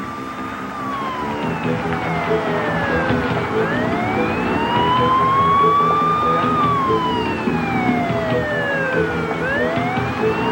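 A loud highway patrol police car siren wails up and down in long sweeping cycles over the steady rumble of traffic during a 1993 pursuit.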